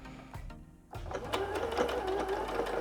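A sewing machine stitches a zipper seam on a trouser leg, starting with a few hesitant clicks before settling into a steady, close whirring hum of needle strokes.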